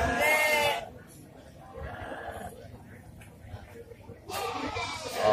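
Sheep and young lambs bleat at the Cilongok Banyumas livestock market. Loud calls open and close the span, and someone talks quietly in between over a crowded background.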